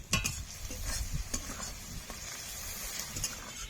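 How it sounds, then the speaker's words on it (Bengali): Onions frying in a pan with Kashmiri red chilli powder for a mutton curry: a soft, continuous sizzle broken by scraping stirs and small clicks, close and fairly quiet. "পেঁয়াজগুলো ভালো করে ভাজা হয়ে গেছে"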